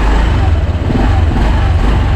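Newly started 2024 Honda Click 125 V4 scooter engine running at idle, a close, loud, even low hum holding steady without speech.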